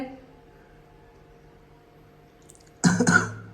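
A person with a lingering allergy cough gives one short, close cough that sounds like clearing the throat, after a quiet stretch with faint background hum.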